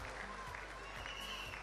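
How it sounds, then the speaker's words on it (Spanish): Crowd applause for ministers at a Spanish-speaking church gathering, a brief continuous patter of clapping mixed with voices and crowd murmur. "Denle un aplauso a los ministros, denle un aplauso."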